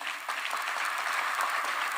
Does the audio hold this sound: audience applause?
yes